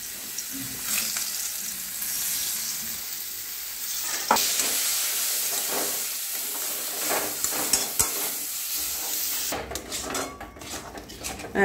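Lentil paste fries in hot mustard oil in a kadai, producing a loud, continuous sizzling hiss with occasional knocks and scrapes of a spoon. The frying stops abruptly near the end.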